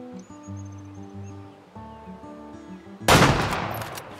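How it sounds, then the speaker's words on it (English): A single loud, close rifle shot from a hunt in Nez Perce cracks out over a steady background of musical tones and fades quickly. "let's see if I can get a shot into this guy"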